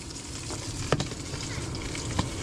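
Hot dog sausages frying on a grill at a beach, a steady close sizzle and crackle with a couple of small clicks or pops, no talking.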